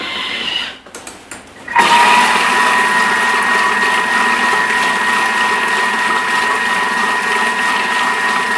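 A Thermomix mixes bread dough for cheese and bacon rolls at 37 degrees on speed 4, starting after a few clicks and then holding a steady, loud motor whir with a constant high whine.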